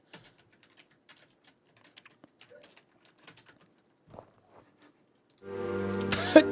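Quiet scattered keyboard key taps over several seconds, close and soft, followed near the end by a louder steady tonal sound that masks them.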